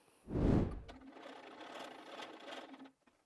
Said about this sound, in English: So let's take those to the machine and sew those.